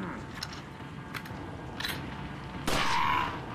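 Gunfire in Resident Evil 4 VR sounds as a few scattered, fairly faint shots, then one sharp, louder blast with a ringing tail, and no speech over it.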